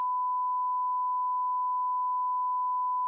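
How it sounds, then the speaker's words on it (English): A steady, loud censor beep holds one pure tone for about three seconds, covering swearing in commentary about GTA 6 news, then cuts off abruptly. "I probably do have to beep out what I just said because of YouTube's TOS."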